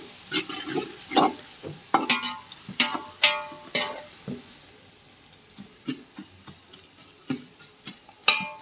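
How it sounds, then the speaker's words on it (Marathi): Onions frying in oil with whole garam masala, close, irregular scraping and clattering strokes of a spoon stirring the pan over a soft background sizzle. "बघा मस्त कांदा भाजून घेतो आपण तेलामध्ये"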